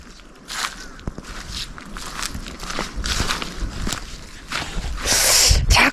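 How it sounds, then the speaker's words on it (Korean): Footsteps tread along a rocky mountain trail between Hwawangsan and Guryongsan, a series of close, irregular crunching and scuffing steps with a louder rustle near the end, and no talking. "제 걷는 소리조차도 안 들렸으면 좋겠는"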